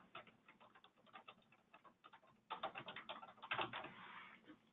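Typing on a computer keyboard while entering corrections in accounting software, a steady patter of quick key clicks that grows louder and denser in the second half, close up with no talk.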